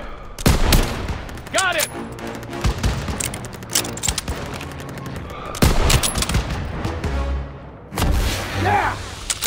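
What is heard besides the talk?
gunfire in the video game Call of Duty: WWII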